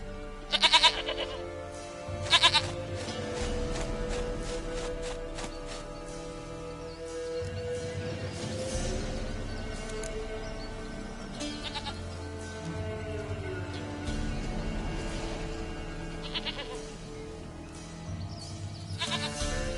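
Goat bleats from The Witcher 3, a few sharp calls near the start and again near the end over a steady layer of game music and ambience.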